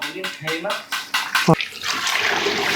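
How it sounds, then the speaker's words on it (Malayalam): A person talks briefly, then boiled milk pours steadily into a dish for pineapple pudding with a rushing, splashing sound. "തിളപ്പിച്ച പാല് ഇതിലേക്ക് ഒഴിക്കുക"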